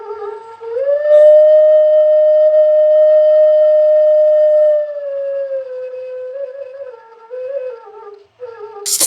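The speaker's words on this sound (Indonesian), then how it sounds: "Itu adalah suara alat musik sedang" A sedang, a traditional wind instrument from Lampung, blown in one long sustained reedy tone that holds steady, then wavers and dips in pitch near the end, loud and alone.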